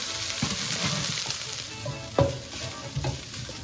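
Steady sizzling and frying in a pan, chicken being lightly browned for resha kabab, with occasional scraping and stirring clinks, close by and with no talking.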